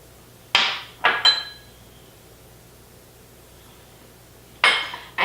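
Shrimp stirred in a pan for lemon butter shrimp and grits, giving a few sharp metallic clinks and scrapes of utensil against pan, three close together early and another pair near the end, with quiet gaps between.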